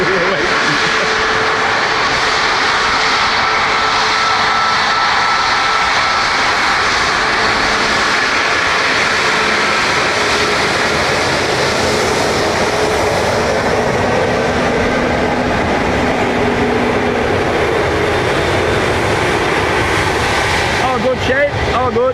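A WestJet Boeing 737 Max 8 from Toronto lands at Dublin Airport with a sustained, loud, close engine roar that persists for over twenty seconds.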